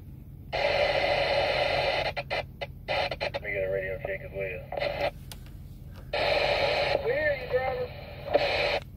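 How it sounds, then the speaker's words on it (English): A Uniden CB radio inside a 2020 Freightliner Cascadia truck hisses with bursts of loud static that cut in and out, broken by garbled transmitted voices and a steady low cab hum. "You hear the static right now?"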